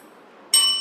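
A timing bell is rung once at a meeting, marking each 30 seconds after the grace period. The clear, bright ring starts about halfway through after near silence and sustains as it slowly fades.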